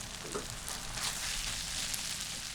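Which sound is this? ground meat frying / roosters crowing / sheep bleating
ground meat frying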